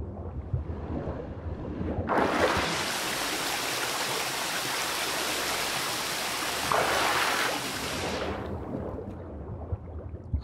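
Water pouring down a stone wall in The Witcher 3, a steady broadband rush of falling water that swells loudly from about two seconds and fades after eight, over a low rumbling ambience.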